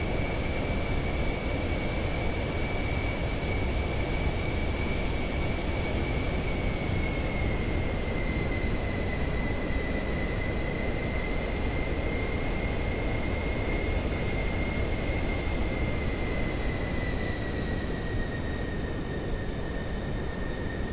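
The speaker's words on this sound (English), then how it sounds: "Alpha Foxtrot 65 taking off runway 18." An airplane engine in a flight simulator game powers up for takeoff on the runway, a steady, loud, unbroken roar with a high whining tone that drifts slightly in pitch, heard alone without talk.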